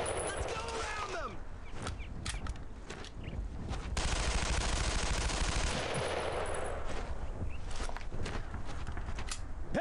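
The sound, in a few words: gunfire in the video game Brothers in Arms: Road to Hill 30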